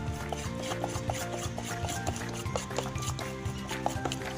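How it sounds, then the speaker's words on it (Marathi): Urad dal vada batter being beaten vigorously in a bowl, a fast, steady churning and slapping with small metallic ticks, close up and continuous. "हे उडीद वड्याचं पीठ वाटल्यावरती आपल्याला 10 मिनिटं कव्हर करून ठेवायचं आहे आणि त्याला छानपैकी असं फेटून घ्यायचं आहे."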